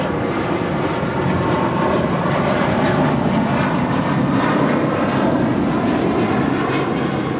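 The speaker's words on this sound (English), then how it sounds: "1570 departing to Cancun on an A320 in the JetBlue for good livery" A JetBlue Airbus A320 departing LAX in a steady, loud jet engine roar that fills the whole stretch without letup.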